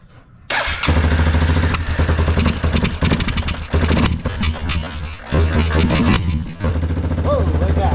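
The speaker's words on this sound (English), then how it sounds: "Backfiring out the carb. Alright, so it's popping." Big Bear ATV engine with carburetor trouble starts up and runs roughly, popping and backfiring through the carb in irregular loud bursts over a clattering idle, close up.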